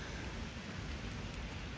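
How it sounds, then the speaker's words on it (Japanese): Heavy rain pours steadily at night in Japan, a dense, even wash of noise with no break and no voices. "今雨は強く降っています。"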